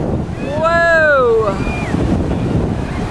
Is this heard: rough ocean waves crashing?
yes